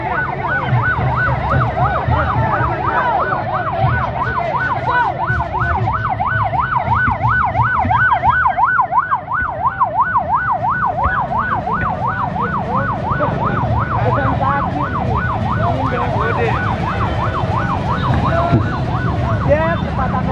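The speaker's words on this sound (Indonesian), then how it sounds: "sebentar dulu untuk kasih dulu mobil ambulan lewat dulu" An ambulance siren wails in rapid regular cycles as it passes through congested traffic, loud and close over a constant rumble of car engines for the full stretch, with faint voices underneath.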